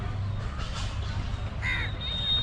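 A crow caws a few times, short harsh calls standing out over a low steady background hum, fairly close and clear.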